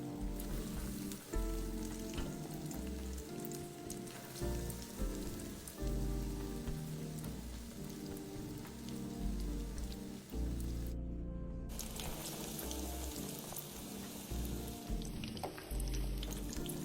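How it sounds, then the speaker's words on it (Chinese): Frozen pork rolls dipped in egg and coated in breadcrumbs deep-fry in hot oil over medium heat, giving a steady, dense crackle and sizzle that fills the whole stretch without any voices. "接着再放入热油内油炸"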